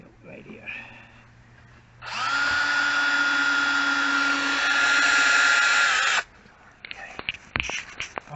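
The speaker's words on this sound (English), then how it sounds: "I better pre-drill this too." A power drill pre-drilling thin plywood whirs loudly for about four seconds, steady in pitch, with quiet handling noises and clatter before and after.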